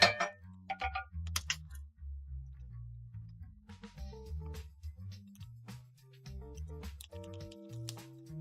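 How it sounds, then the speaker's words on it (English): Utensil stirring food in a metal pot, repeated clanks and scrapes in an uneven rhythm, fairly close, with low background hum and occasional ringing metallic dings. "I'm stirring it again"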